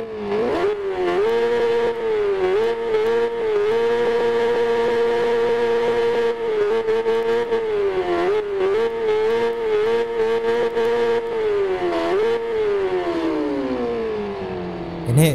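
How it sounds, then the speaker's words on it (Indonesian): A Yamaha YZF-R6 sport motorcycle exhaust revs hard and steadily, its pitch rising and dipping in repeated throttle blips, loud and close, ending with a sharp burst. "sebelum kita mulai untuk geber motornya dan nyobain, kita akan tes dulu exhaustnya."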